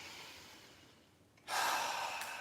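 Breathing during a qi gong exercise: a quiet exhale fading, then a sudden loud, airy inhale through the nose lasting to the end, close up.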